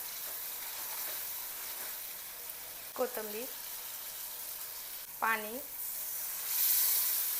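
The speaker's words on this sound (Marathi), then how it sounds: "मसाल्यानं तेल सोडेलं आहे, मसाले छान भाजलेले आहेत।" Spiced masala, with tamarind water, fries in oil in a pan with a steady, soft, even sizzle, and a voice speaks briefly twice over it.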